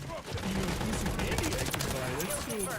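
Rapid gunfire from an XDefiant or MWIII multiplayer match crackles in dense, overlapping bursts throughout, with a voice talking over it.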